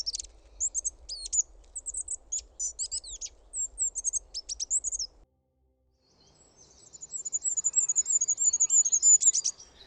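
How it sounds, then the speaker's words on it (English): Goldcrest, the smallest UK bird, gives rapid series of very high, thin calls and song phrases close to the microphone. A short pause of silence splits them, then a fast, repetitive high trill with no talk over it. "the Goldcrest is the smallest UK bird"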